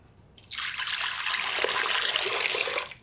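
Water poured into a stand mixer bowl as the first ingredient for ciabatta dough: a steady, close splashing trickle that begins after a brief quiet moment and runs evenly for a couple of seconds before stopping.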